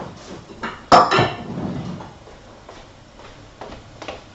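Fried onions lifted out of hot oil with metal utensils: one loud clank against the pan, followed by softer scraping and a few light taps, close by, with no talking.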